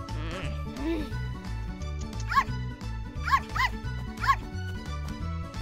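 Cartoon dog barking and yipping playfully on a farm, several short high barks in quick bursts over bouncy background music, with a voice talking in places.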